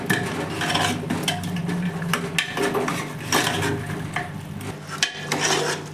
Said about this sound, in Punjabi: ਸਾਰੀਆਂ ਚੀਜ਼ਾਂ ਨੂੰ ਹੁਣ ਆਪਾਂ ਚੰਗੀ ਤਰ੍ਹਾਂ ਮਿਲਾ ਲਵਾਂਗੇ ਜੀ